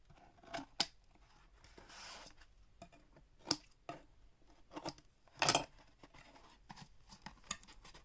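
Scissors trimming a wrap around an ink pad, a series of short sharp snips and rustles at close range with quiet gaps between cuts.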